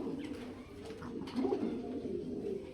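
A pigeon coos in a low, rolling rhythm at close range, repeating its soft throaty call over a faint background as a pair sits in a coop during egg laying.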